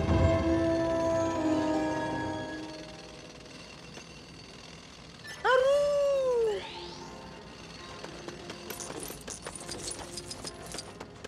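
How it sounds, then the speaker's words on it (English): A creature's cry in LEGO Star Wars: The Skywalker Saga, a Vulptex call: one loud arching, harmonic wail lasting about a second midway, over quiet game ambience with tonal music before it. "I'll stay here and work on my Vulptex call."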